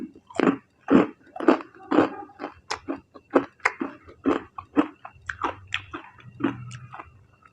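Close, crisp crunching bites of crunchy fried pork tail eaten with rice noodle papaya salad, about a dozen chews in an uneven rhythm, with no talk.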